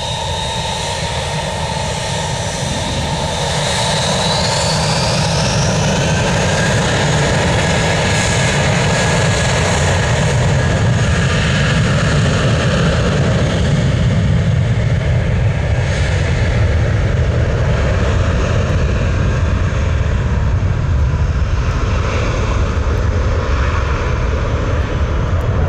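A JetBlue airliner in special livery passes close and loud, its jet engine roar steady and broadband throughout, with a high whine sweeping downward as it goes by.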